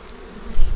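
Honeybees buzz steadily at a hive in February, a loud, close, dense hum that swells toward the end.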